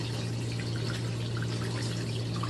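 A Giantex portable automatic washing machine runs its rinse cycle, giving a steady wash of water splashing and pouring over a constant low motor hum, with no one talking.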